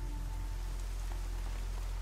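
Rain pours steadily in the video game Horizon Zero Dawn, a dense, continuous patter of drops on surfaces over a low background hum, even and unbroken throughout.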